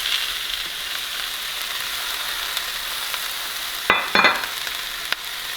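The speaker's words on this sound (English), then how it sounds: "So just as the garlic is starting to turn brown, we're going to add in the shiitake mushroom," Garlic with shiitake and wood ear mushrooms stir-frying in a wok for a Sichuan pickled fish soup: a loud, steady close sizzle with a few scraping stirs near the end, no talk.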